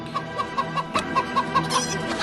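Chickens clucking close by in a coop, a rapid rhythmic run of short repeated clucks over about two seconds, loud and clear with no talk.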